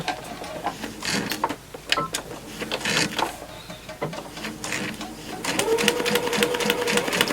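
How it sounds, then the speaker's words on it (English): A sewing machine runs close by, stitching a straight seam on a Christmas tree snack pad, with a fast mechanical whirring rattle that holds steady and grows slightly louder and smoother toward the end. "Just sewing a straight line."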